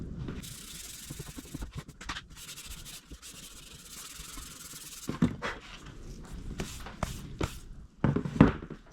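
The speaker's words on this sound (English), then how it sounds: "But we're gonna keep on sanding here, get this edge done, get this little nook done, and block this" Close-up sanding of a fiberglass dirt bike side panel, a steady scratchy rubbing that runs continuously, then breaks into short separate strokes near the end.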